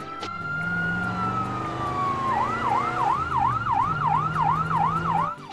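A cartoon fire truck siren in a children's animated train show, a loud, close electronic wail that slides smoothly downward and then breaks into a rapid, repeating yelp, with no voices over it.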